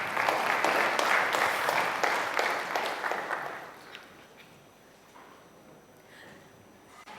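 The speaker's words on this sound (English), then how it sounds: "So another round of applause for all the stars." Hands clap together in a round of applause for award-winning stars at a session at IIT Bombay, dense and lively for about four seconds before thinning out and fading into quiet room noise.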